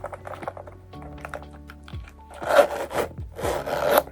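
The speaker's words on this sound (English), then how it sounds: "this is really good and smooth zipping as well" A zipper on a Louis Vuitton x Murakami 20th anniversary bag, made in France, is pulled smoothly in two or three close, bright rasping strokes that follow some quieter handling sounds.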